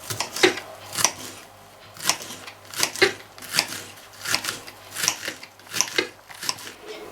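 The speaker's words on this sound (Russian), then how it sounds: "Мелко нарезаем зеленый лук." Knife finely chopping green onion on a board, a run of crisp, evenly spaced cuts at roughly one per second, close and fairly quiet.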